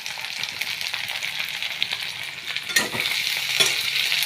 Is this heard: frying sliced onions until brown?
yes